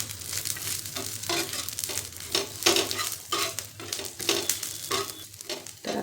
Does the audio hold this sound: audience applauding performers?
no